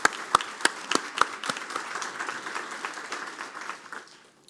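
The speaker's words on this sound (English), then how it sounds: "Let's give Officer Walker another round of applause for his wonderful speech." An audience at a police academy graduation ceremony claps, with sharp individual claps at first that settle into steady applause and then fade.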